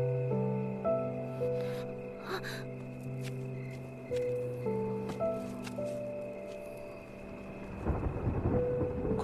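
Thunder rumbles before rain in a historical drama scene, with a low rolling burst near the end beneath sustained background music and no talk.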